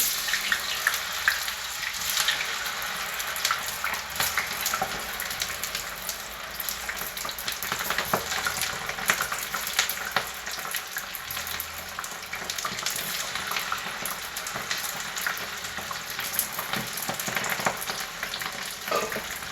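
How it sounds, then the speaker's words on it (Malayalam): Plantain slices sizzle and crackle steadily in a pan of hot oil, a dense continuous frying hiss with no talking. "ഇനി അതിലേക്ക് നേരത്തെ കട്ട് ചെയ്ത് വെച്ച് കായ കട്ട് ചെയ്ത് കൊടുക്കണം"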